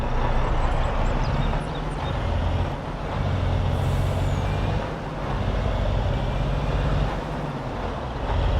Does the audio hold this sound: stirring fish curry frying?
no